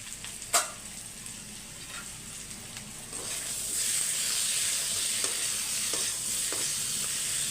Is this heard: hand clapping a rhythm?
no